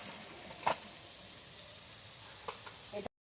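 Moringa leaf pakoras fry in hot oil, a soft steady sizzle with a few sharp pops and spatters, close and fairly quiet, ending abruptly.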